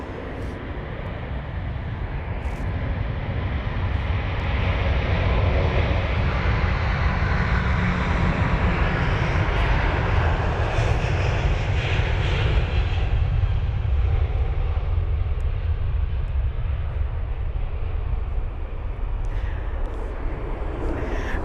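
British Airways Airbus A350-1000, a nearly new jet registered G-XWBP, roars steadily at London Heathrow, a broad sustained engine rumble building early and holding loud and near for the whole stretch with no talk.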